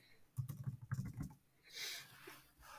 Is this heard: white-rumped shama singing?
no